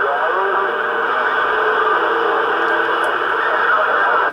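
A CB radio reply comes over the talkback of a Cobra set as a voice heard through the speaker. It is narrow-band and hissy, with steady static under it, loud and continuous throughout.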